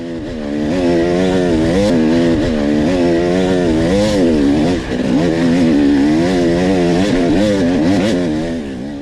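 An enduro motorcycle engine roars loud and close, revving hard and holding high revs as it climbs a steep, loose mountain slope during an extreme hard enduro race, with pitch rising and wavering under load.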